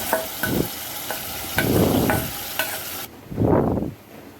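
Washed rice with bay leaf, cinnamon, cloves and pepper is stirred in hot ghee for coconut sweet rice, with loud sizzling bursts and scraping spoon strokes in a few close, separate sweeps.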